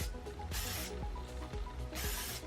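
Heat protectant sprayed onto short hair from a pump bottle, two quiet hissing bursts about a second apart, close to the microphone, with faint handling rubs between them.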